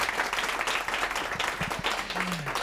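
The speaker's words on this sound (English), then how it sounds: "let's give Dr. Grundstrom a huge round of applause" A crowd gives sustained, even applause after a public astronomy talk, a thick wash of clapping with a few faint low voices beneath it.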